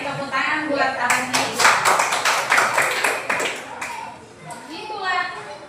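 Children in a classroom clap together in a lively burst of rapid claps lasting a few seconds, fading out, with a teacher's voice and kids' chatter around it.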